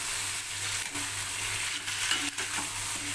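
Badshahi chicken pieces sizzle and fry in hot oil while being stirred, a steady close crackle with scraping stir sounds breaking through now and then, no voices.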